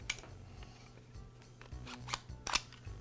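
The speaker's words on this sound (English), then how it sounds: "I'll begin by removing the base from the router." A Ridgid laminate trimmer router has its base taken off, with quiet plastic clicks and a few sharp snaps as the base releases, close and faint in a quiet room.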